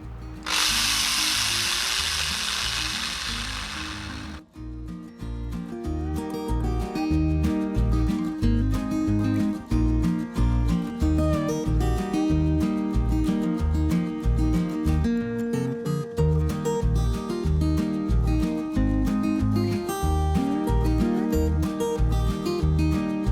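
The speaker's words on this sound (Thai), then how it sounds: "แล้วก็ทำการเจาะได้เลย" A power drill bores into a homemade bonsai pot wetted with a little water, a steady loud grinding whine with rhythmic rattling pulses running continuously after a brief burst of hiss at the start.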